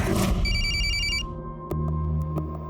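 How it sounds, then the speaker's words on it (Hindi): A telephone rings with a bright electronic trill at night, one ring burst followed by a pause, then a couple of short clicks and a low hum as the call connects. "एक रात अचानक उसका मुझे फ़ोन आया।"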